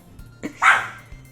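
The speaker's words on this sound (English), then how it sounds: "I'm sorry if your speakers are blowing out right now because of Boba barking" Boba the dog lets out a single sharp bark close by, followed by a quieter yip, brief and loud against a quiet room.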